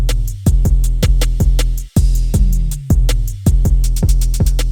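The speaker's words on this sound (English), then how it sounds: "This is what the full drum beat sounds like." Full drum beat: booming kick and sliding 808 bass under crisp, rapid hi-hat rolls and claps, a dense, loud trap groove with brief dropouts between phrases and no voices.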